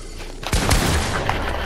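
Rapid bursts of gunfire in a Fortnite box fight, starting abruptly after a quiet moment and continuing as a loud, dense stream of shots close up, with no talk over it.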